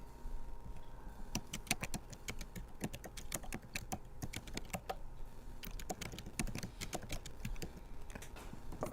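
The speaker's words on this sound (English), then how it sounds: "I hear typing." Rapid clicking keystrokes on a computer keyboard picked up over an open microphone during an online session, irregular bursts of typing that continue steadily and sound fairly close but quiet, with no talking.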